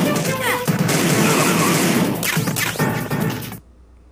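Dense, loud video game gunfight gunfire roars in sustained rapid bursts, with game voices mixed in, then cuts off abruptly to quiet near the end.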